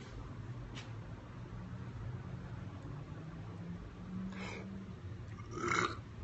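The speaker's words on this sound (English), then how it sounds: "That was a burp." A low, rumbling burp rolls out over steady road and engine noise inside a moving car, fairly quiet and drawn out.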